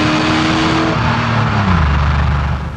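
A Mercedes R129 500SL's engine held in second gear sounds close and loud, a steady roar with rising and falling tones as it revs, with no talk.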